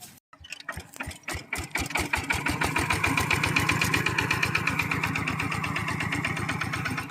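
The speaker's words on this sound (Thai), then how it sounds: "สำหรับการสตาร์ทเครื่องก็ยังเป็น การสตาร์ทเครื่องแบบเดิมๆนะครับ" An old DIY walk-behind tractor engine starts with a few separate pulses, then settles into a fast, even chugging beat. The engine is close and loud, with no talk over it.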